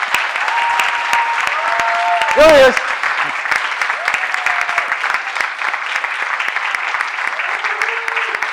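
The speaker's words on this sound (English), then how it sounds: "Can we give a round of applause for all the good doctors?" A conference audience claps loudly and continuously in a hall, with a voice briefly speaking over the applause and some whistles or cheers mixed in.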